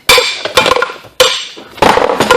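Hammer striking the u-joint ears on a two-piece driveshaft, sharp metallic taps in quick clusters of two or three, close and loud with short ringing between.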